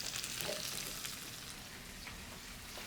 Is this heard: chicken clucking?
no